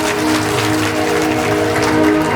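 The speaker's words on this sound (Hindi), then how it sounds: "एगो ताली बजा के आशीर्वाद दे।" An audience at a government-hosted stage event in Bihar claps in sustained, loud applause that sits close and continuous throughout, with no talking over it.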